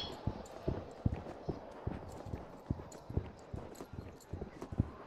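A horse trots outdoors at a riding session, its hooves clip-clopping in a steady two-beat rhythm. The footfalls are close and moderately loud, with faint background noise between them.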